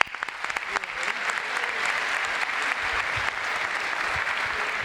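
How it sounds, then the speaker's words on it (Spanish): An audience at a conference talk claps for a participant, a soft, steady spread of many hands that begins with a few distinct claps and continues evenly at a distance. "Un aplauso para Mateo."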